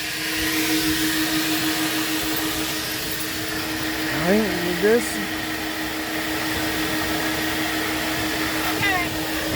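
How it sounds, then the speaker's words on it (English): A vacuum cleaner at a car wash runs in a steady loud roar throughout, up close, while a person speaks briefly and a short rising whine cuts in near the middle. "Vacuum cleaner."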